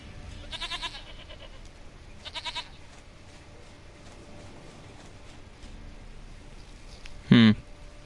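A goat in The Witcher 3 gives one short, loud bleat near the end, following two brief bursts of earlier game sound over a quiet background.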